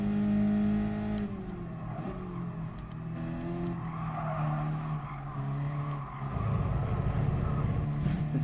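Race car engine in Gran Turismo Sport, revving hard and continuously with shifting pitch and a stretch of tire squeal or skidding, loud and close throughout.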